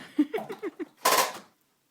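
A voice imitates the firing of a toy army gun with a quick run of rhythmic pew-like bursts followed by a louder hissing blast, close and alone.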